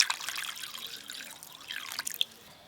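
Water is poured beside a tiffin box set in a pot for steaming greens, giving a soft trickling, dripping splash that tapers off, faint and close.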